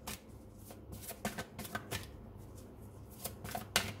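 Tarot cards shuffled by hand, a run of crisp riffling and flicking bursts at close range, quiet and without talk.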